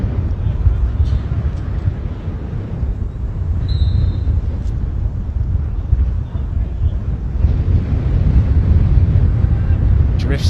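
Heavy wind buffets the microphone in a constant low roar at an outdoor youth football match, with a faint commentary voice barely audible underneath.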